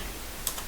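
A few quick keystrokes on a computer keyboard typing a Linux command, faint light clicks close by.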